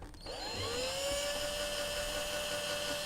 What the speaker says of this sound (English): So you can try drilling it out with a bigger piece.